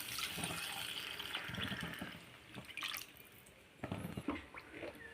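Water saved from rinsing a stone grinding slab is poured into a simmering Tamil curry, giving faint trickling and dripping splashes in a quiet kitchen with no talk.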